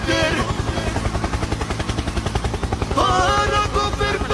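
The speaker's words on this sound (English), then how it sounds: "Helicopter, helicopter." Steady, rhythmic helicopter rotor chop pulses throughout, fairly loud and close, with a musical, voice-like tone riding over it that swells near the end.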